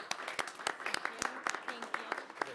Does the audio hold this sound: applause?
yes